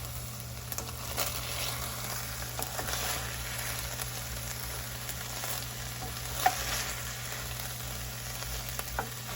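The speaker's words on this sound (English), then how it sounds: "Okay, now we're gonna add our potatoes. Aiden's gonna give this a stir" Potatoes being stirred into a sizzling pot of green chile stew, a steady frying hiss with soft scraping strokes and a few small clicks from the spoon, with no voices.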